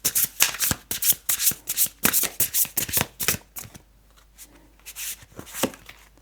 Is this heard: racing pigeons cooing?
no